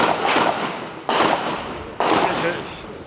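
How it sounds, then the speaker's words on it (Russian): A heavy machine gun fires at a target at a shooting range, heard as three loud bursts of rapid shots about a second apart, each sharp onset fading into a roaring echo. "Мишень он поразил стрельбой из пулемета."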